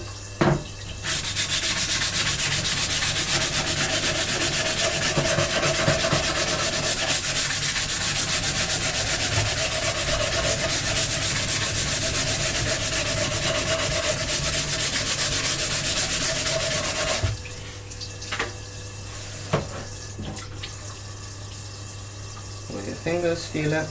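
Steady, continuous sanding rubs across the seams of a 3D-printed plastic katana sheath, loud and unbroken for about seventeen seconds before stopping, followed by quieter handling noises.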